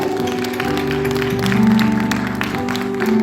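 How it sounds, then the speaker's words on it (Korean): Church congregation clapping at a Friday prayer meeting, a steady wash of applause running under sustained keyboard chords for the whole stretch. "우리 하나님께 영광 박수 올리겠습니다."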